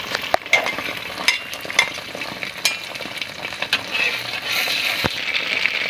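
Eggs for an omelette sizzle steadily in hot oil, a loud continuous frying hiss with occasional sharp clinks and stirring scrapes.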